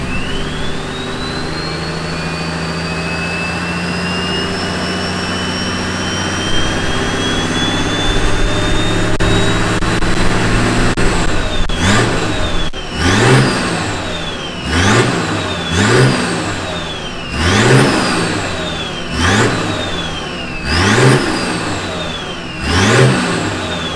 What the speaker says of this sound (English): I'm definitely going to have to rev it a few more times just to get some temperature in it.